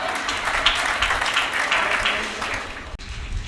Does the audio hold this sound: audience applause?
yes